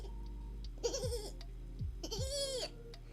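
A person imitates a goat bleat, giving two wavering, nasal bleats close to the microphone over a low background hum.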